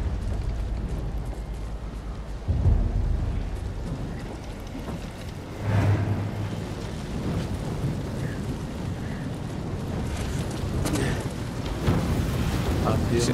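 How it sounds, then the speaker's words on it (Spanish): An approaching thunderstorm in the video game Ghost of Tsushima: steady heavy rain hiss with low rumbling thunder swelling in a few loud bursts, continuous throughout. "Se acerca una tormenta."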